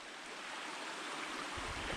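Creek water flowing along a forest trail, a steady broadband rushing wash heard close and loud with no voices.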